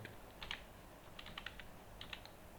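Faint, quick clusters of computer keyboard keystrokes come in three short bursts against a low steady hum, with no voice, as ledger entries are typed into Tally Prime accounting software.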